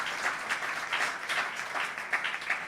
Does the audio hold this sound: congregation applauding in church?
yes